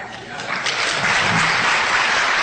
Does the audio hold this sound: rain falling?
no